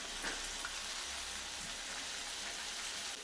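Vegetables for oats khichdi fry in a pan, giving a steady, broadband sizzle that runs without a break at moderate loudness and has no voices over it.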